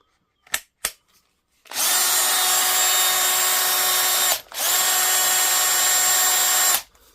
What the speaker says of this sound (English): Next thing to do is test it on a drill.